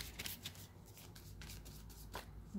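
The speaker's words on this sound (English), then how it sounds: "Shuffle my clarifying deck and get some clarifiers on the board" Tarot-style clarifier cards are shuffled close up, with soft riffling and rustling bursts repeating several times, quiet and without talk.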